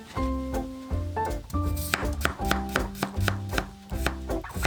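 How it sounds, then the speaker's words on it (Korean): Potatoes and half an onion being thinly sliced with a knife on a board, a quick run of close, sharp rhythmic chops over about five seconds, with no speech. "감자 2~3개, 양파 반개 얇게 썰어주세요."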